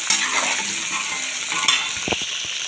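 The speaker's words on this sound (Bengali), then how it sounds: "আদা রসুন বাটা, সরিষা বাটাটা নেড়ে চেড়ে নিয়ে ভালোভাবে ফ্রাই করে নেব।" Ginger-garlic paste and mustard paste fry in oil for a pickle while being stirred, a close, steady hiss with a few scraping spoon strokes near the end.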